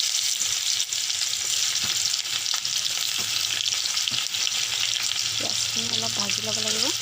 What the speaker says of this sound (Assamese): পিঁয়াজখিনি অলপ ভাজি ল'ব লাগিব